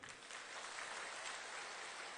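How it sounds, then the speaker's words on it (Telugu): An audience clapping hard together on request at a Telangana political gathering, a dense, steady wash of applause lasting about two seconds at a moderate, even level with no talk over it. "ఒక్కసారి గట్టిగా చప్పట్లు కొట్టండి"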